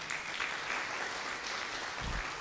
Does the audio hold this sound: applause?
yes